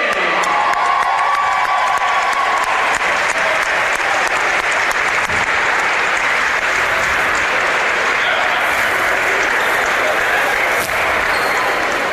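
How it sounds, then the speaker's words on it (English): Crowd applauding and cheering in a college gym during senior recognition at a Tampa men's basketball game against Florida Southern, loud sustained clapping with scattered whoops throughout. "let's once again give a round of applause for these seniors"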